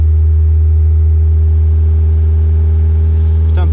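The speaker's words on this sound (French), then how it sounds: "là elle fait un petit peu de bruit au niveau des poussoirs" A Volkswagen Golf 2 GTI 16V engine idles steadily and loudly up close, its low drone overlaid with a light ticking from the tappets after sitting unused for a year.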